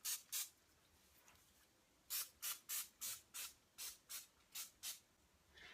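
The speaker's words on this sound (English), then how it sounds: "A really light spraying, nothing major." Short quiet bursts from a spray bottle hit a sculpted Simba mask before plaster wrap goes on, two quick puffs, a pause, then a rhythmic run of about nine more evenly spaced spritzes.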